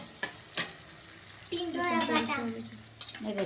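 Kundri (ivy gourd) frying in oil is stirred in the pan, giving a crackling sizzle with a couple of sharp utensil knocks at the start, while a voice talks over it.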